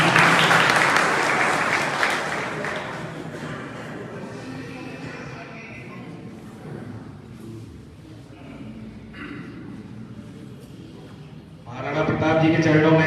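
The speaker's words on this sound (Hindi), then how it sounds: "तालियों से थोड़ा सा स्वागत करना होगा।" An audience at a Karni Sena and Rajput community meeting in Bhopal applauds to welcome a speaker onstage, the clapping loud at first and fading into talk, then rising again near the end.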